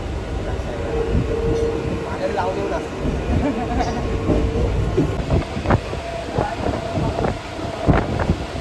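Mandovi Express train on the Konkan Railway, a steady low rumble and rattle of the moving carriage with clacking bursts, heard from inside amid people talking.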